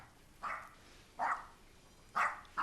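Chihuahuas heard through a fence in a neighbour's yard bark four times in quick yappy bursts, at a moderate distance and fairly faint, with no talk.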